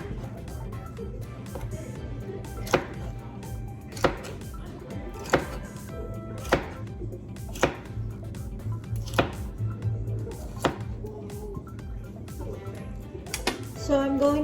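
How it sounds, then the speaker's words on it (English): Knife slicing vegetables for a salad on a cutting board, a steady series of about ten crisp chops spaced roughly a second apart, close and clear over a low background hum. "And then you just slice them up like that."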